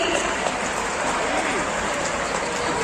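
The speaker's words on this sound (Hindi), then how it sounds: "तालियां बजाते रहिए भाई" Audience applause at a Braj Raj Utsav bhajan festival stage, a steady dense wash of clapping throughout with a voice faintly underneath.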